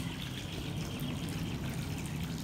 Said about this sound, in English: They are still filling it with the water.